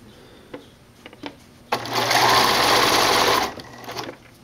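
A sewing machine stitches binding onto a Y-back racer tank top in one steady, loud burst of fast whirring lasting about two seconds, preceded and followed by small handling clicks and soft fabric rustle.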